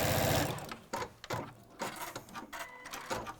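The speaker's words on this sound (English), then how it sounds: "So we're just going to sew down." A sewing machine stitches down fabric for a zip bag in quick rhythmic bursts of needle chatter, close and clear, with a brief bit of sound at the start.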